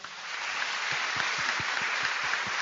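An audience claps together for an applause meter during a talk, a dense, steady wash of hand claps sustained throughout at moderate loudness.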